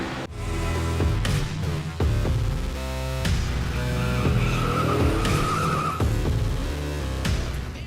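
Race car tires squeal and skid through a qualifying lap at Richmond in a racing video game, loud and sustained over a roaring engine, with no talk.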